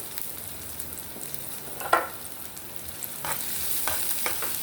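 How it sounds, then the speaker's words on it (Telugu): Ginger, green chillies and tempering spices fry on low flame in a pan, a steady soft sizzle with occasional stirring scrapes, close and quiet, no talk. "మనం ఫ్లేమ్ సిమ్లో పెట్టుకొని ఇవి వేయించుకోవాలి"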